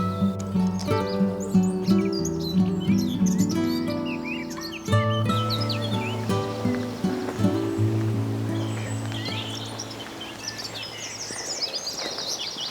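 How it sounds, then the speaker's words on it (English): Woodland birds chirp and tweet busily, several calls close by and others farther off, over a soft outdoor background with a brief low voice, at a wetland nature reserve. "I've heard so many birds and some seem very, very close"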